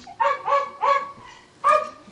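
Dogs in The Outlast Trials give a run of short barks and whimpering yelps, three quick cries close together then a pause and one more, fairly near and clear.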